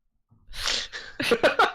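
A single close sneeze bursts out after a short intake of breath, followed by a few quick breathy gasps and snorts.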